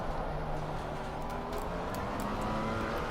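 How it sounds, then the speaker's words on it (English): Steady car engine drone of a McLaren 570S GT4 in a racing game at Laguna Seca, with a faint high-pitched whine of overheating brakes rising over it, continuous and loud throughout. "That sound of brakes overheating there."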